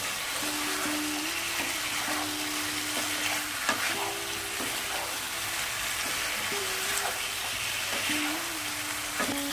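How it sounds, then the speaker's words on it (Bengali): Jackfruit and fried potatoes are stirred and fried together in a pan for a vegetarian biryani, giving a continuous close sizzle with intermittent scraping strokes of the spatula throughout. "ভেজে রাখা আলুগুলো দিয়ে দেবো সবগুলো একসঙ্গে ভালো করে কষিয়ে নেব"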